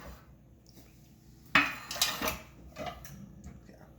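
An ice cream scooper is picked up among dishes in a home kitchen while baking cinnamon muffins, with one sharp metallic clank followed by a few lighter clinks and rattles close by in a quiet room.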